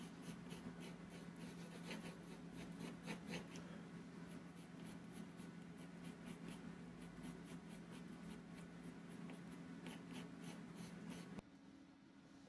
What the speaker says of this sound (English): I'm adding some lighter details using an ochre colored pencil.